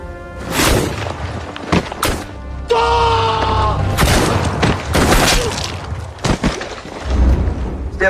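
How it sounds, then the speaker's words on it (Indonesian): Gunfire in a sniper film, several sharp loud bursts and thuds scattered through the scene, mixed with music and other effects. "Tembakan beruntun pun tak dapat terelakkan."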